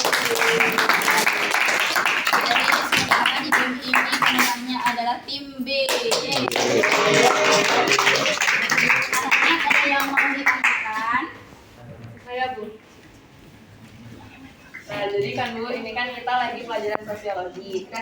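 A classroom claps for the winning team in a rupiah money quiz game, with bursts of brisk hand clapping from a group, broken by a teacher talking and a short quiet pause before more clapping.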